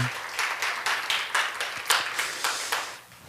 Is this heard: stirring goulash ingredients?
no